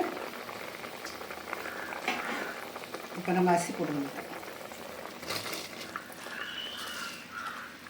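Water at a rolling boil in a pot while preparing mint pulao, a steady bubbling hiss with light clinks, heard under a voice talking throughout.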